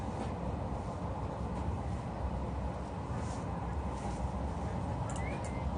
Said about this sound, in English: We're zooming by the train